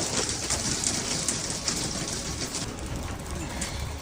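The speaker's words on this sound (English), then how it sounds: "Look at that pea-sized hail." Pea-sized hail falls on a garden in Los Gatos, a dense, steady hiss of countless small pellets pattering close by at an even, loud level for the whole stretch, with no voices.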